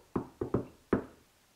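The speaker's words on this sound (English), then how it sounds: "Could you finish the knock for me?" Four sharp knocks land on a hard surface in an uneven rhythm, two close together in the middle, each a near, distinct rap fading quickly, with nothing else heard.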